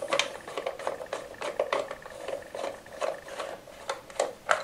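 Screws being loosened from a plastic cover on a Typhoon, Stalker or Zip scooter, a steady run of small ratcheting clicks close up, quiet and without talk.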